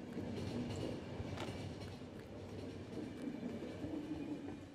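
A train moving on rails in the video game The Final Station rumbles steadily, a low continuous roll with faint clickety-clack and occasional wheel squeal, fairly quiet and without voices.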